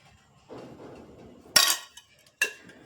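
A metal thali plate set down in a home kitchen, two sharp clinks, the first ringing briefly and the second shorter, after a soft rustle.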